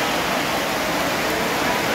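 Heavy rain pours down at an outdoor market in Gò Quao, Kiên Giang, a steady dense hiss filling the whole clip with no voices heard.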